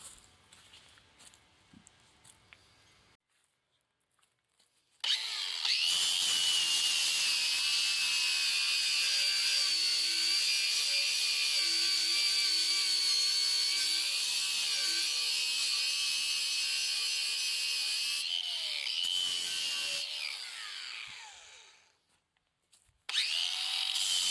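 A flap wheel disc grinds steel on a John Deere 47 snowblower, a loud, continuous, high-pitched scouring whine lasting about seventeen seconds, with quiet shop sounds before and after.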